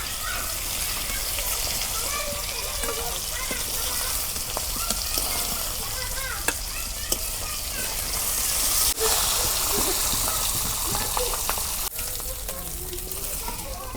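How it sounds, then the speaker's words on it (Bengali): Pieces of pangas fish fry in hot oil in a pan, a loud, dense, continuous sizzle with small pops and crackles throughout, steady and close. "মাছ ভাজা হচ্ছে"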